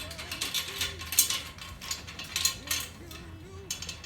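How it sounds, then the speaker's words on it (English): Threaded metal tension rods on a resonant snare drum head being turned loose by hand, giving soft repeated scraping and ratcheting clicks at close range, steady and fairly quiet throughout. "Once I got them loosened up where I can move the screws with my finger, I like to do just that. Get all the lugs nice and loose."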